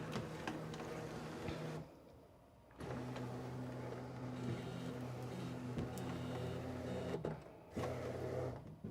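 A craft cutting machine runs its motor as it scans the top of the cutting mat after start is pressed, a steady close mechanical hum broken by two short pauses, with no voices.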